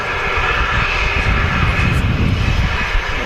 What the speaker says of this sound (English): Ryanair turning onto the active